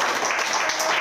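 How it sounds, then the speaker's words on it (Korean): A church gathering claps for a pastor in a short, dense burst of audience applause, filling about a second at steady volume. "우리 다시 한번 목사님 감사의 박수 드리겠습니다"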